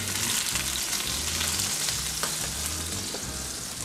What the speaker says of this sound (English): let's check that backside and make sure we got a good sear on there, then we'll flip it